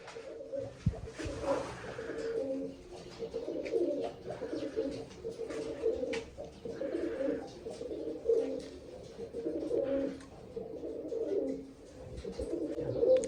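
Pigeons cooing repeatedly in soft, rolling phrases, fairly close, with light background rustle and no talking.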